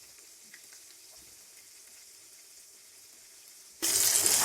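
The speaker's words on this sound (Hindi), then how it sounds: "अब हम इसमें फिश इसके तरीके से डालेंगे।" Fish pieces drop into hot oil and start frying at low to medium heat, a sudden loud burst of hissing sizzle near the end after quiet kitchen background.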